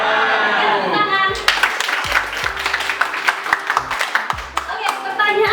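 A classroom group claps hands after a correct answer in a university literature class, starting with a brief voice and then a burst of dense, uneven clapping that continues steadily, with a few louder individual claps standing out.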